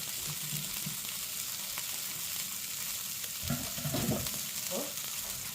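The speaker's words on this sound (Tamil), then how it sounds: "இது வந்து இந்த கோழியை வந்து பொரிக்கிறதுக்கு தான்." Chicken frying in a small amount of oil for butter chicken, giving a steady close sizzle and crackle with a few louder bubbling bursts near the end.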